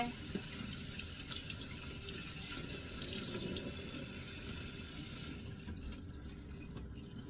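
Running tap water splashing into a kitchen sink during washing up, steady and close, with faint clinks of dishes, and the flow easing off toward the end.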